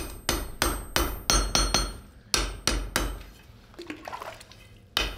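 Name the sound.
hammer forging katana steel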